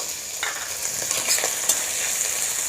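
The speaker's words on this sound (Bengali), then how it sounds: "আদাটা একটুখানি 1 মিনিট একটু ভাজা ভাজা করে নেব" Grated ginger fries in oil in a pan for a radish greens stir fry, giving a steady close sizzle with light crackling bursts throughout, and no voices.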